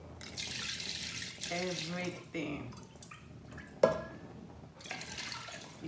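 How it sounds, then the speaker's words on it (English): Stock poured into a boiling pot of Nigerian smoky jollof rice, a close liquid splashing and trickling with drips, under someone talking throughout. "I'll pour in my stock"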